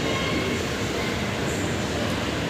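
A Kolkata East-West Metro train stands at a station platform at Sector Five, giving a loud, constant low rumble and hum with a faint high whine, without clear speech.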